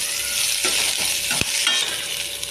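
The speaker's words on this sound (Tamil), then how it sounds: "நல்லா வதக்கிக்கலாம்." Small shallots sizzling and being stirred in hot oil for an okra tamarind curry, a steady broadband fry with a few sharp utensil scrapes, close and continuous without speech.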